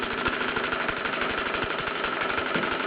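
A Bowman M167 steam engine running with a rapid, regular chugging beat and a broad hissing layer of exhaust steam over it, close and continuous.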